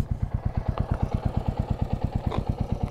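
Royal Enfield Classic 350 motorcycle running on a road, a steady, loud single-cylinder thump pulsing in an even rapid rhythm close by, with light mechanical clatter over it and no voices.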